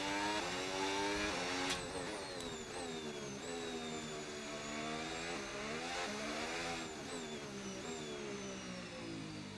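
Red Bull Formula 1 car in the F1 26 racing game, its high-pitched engine revving and shifting steadily through gears, loud and continuous with harmonic whine rising and falling, no talking.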